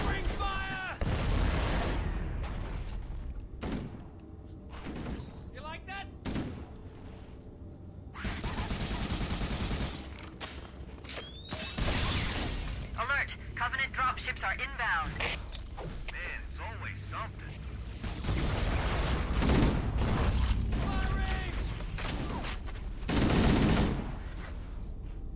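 Stationary gun turrets in Halo CE keep up rapid bursts of automatic gunfire with booming impacts and mechanical clatter, loud and close, with brief lulls between volleys and a voice talking at times.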